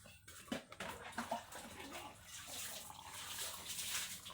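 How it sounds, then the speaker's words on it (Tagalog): Hot water is poured into a cup holding honey and milk, a soft, quiet trickle and splash that runs steadily after a few faint knocks at the start. "Bigyan na natin ng tubig na mainit."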